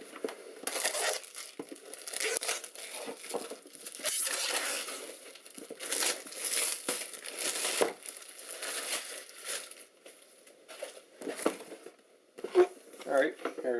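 Cardboard box being opened and unfolded, scissors nearby: repeated crinkling, tearing and crushing of card, close and fairly loud, in bursts with brief pauses throughout.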